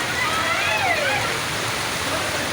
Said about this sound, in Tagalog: Ang daloy ng tubig. Na para siyang ano, tabing ilog ng Lansangan.